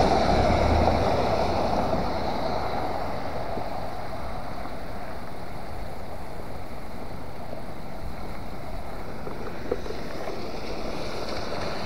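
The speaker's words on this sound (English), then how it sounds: "during the heaviest parts of the rain, while water is coming around," Heavy rain pours and stormwater rushes around a stormwater outfall at Dodge Park in Worcester, a steady, dense roar of water and downpour with no speech.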